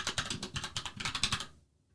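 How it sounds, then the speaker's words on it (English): Rapid typing on a computer keyboard, a quick run of close, crisp key clicks for about a second and a half before stopping, with no talk. "I don't know why I'm typing out branch."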